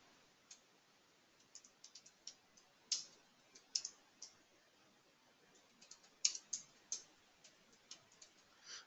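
Soft mouse clicks while navigating the Salesforce setup menu in a computer admin session, irregular light taps scattered throughout, faint and close, with no talking.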